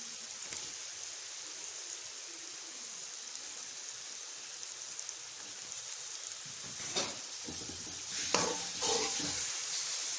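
Chicken for biryani frying in a pan, a steady close sizzle throughout with scraping stirring strokes picking up toward the end, no talking.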